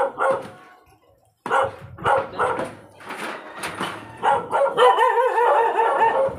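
Dogs bark repeatedly in a narrow residential alley, sharp close barks rising into a sustained excited yapping toward the end.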